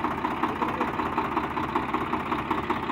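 A farm tractor's engine idles during a ritual before chickpea sowing, a steady rumbling throb with a faint regular knock, close by and constant, no voices over it.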